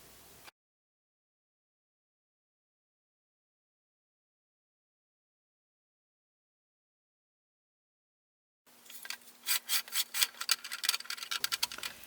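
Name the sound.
trimming a clay pot on a potter's wheel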